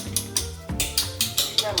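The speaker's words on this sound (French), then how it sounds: "on mélange les jaunes d'œufs avec la farine et le sucre" Egg yolks being whisked with flour and sugar into a thick, sticky paste, a whisk scraping the bowl in regular rapid strokes, about eight close, crisp swishes over a low background hum.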